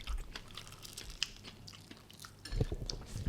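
Someone chews and bites food right in front of the mic, producing close, wet crunching and munching sounds that come in irregular bursts, with a few brief clinks.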